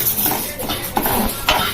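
Urad dal being stirred as it fries in a pan, with a spoon scraping and clinking against the metal and a soft sizzle underneath, steady and close throughout.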